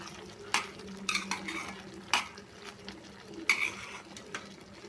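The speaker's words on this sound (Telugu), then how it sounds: "మధ్య మధ్యలో కలుపుతూ ఈ నీరంతా పోయే వరకు ఇవి ఉడికించుకోవాలండి" Raw prawns simmer in their released water in a pan, with a soft steady bubbling bed and several sharp spoon scrapes and clinks as they are stirred at intervals, close and moderately quiet.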